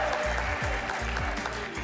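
Studio audience at a live show claps for a guest named Mike as he is called up on stage, a steady dense patter of hands over a low droning hum, never pausing across the short stretch.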